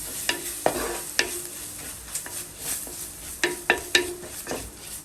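Ginger garlic paste fries in a pan for a Kerala-style sardine curry, with a soft steady sizzle punctuated by repeated scraping knocks of a spatula stirring against the metal.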